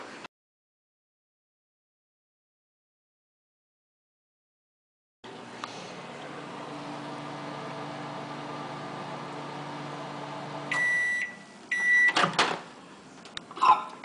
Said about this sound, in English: you're going to take about 2 cups of semi-sweet chocolate chips and you're going to put them in the microwave